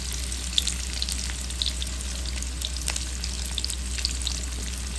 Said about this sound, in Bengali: দিয়ে দিলাম তেল ভাজির জন্য, দিয়ে দিলাম পেঁয়াজ